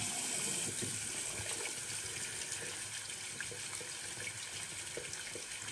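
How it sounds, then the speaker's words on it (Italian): Water trickles and runs steadily into a shaving soap bowl while a lather is prepared, a continuous close splashing flow with no speech. "io metterei 2 gocce d'acqua in questo"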